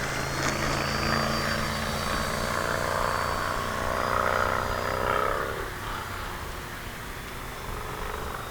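A small Tower Hobbies DHC-3 Beaver model airplane's engine whines overhead, its pitch rising and then falling away as it passes, over steady outdoor background noise.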